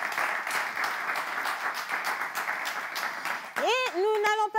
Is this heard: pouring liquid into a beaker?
no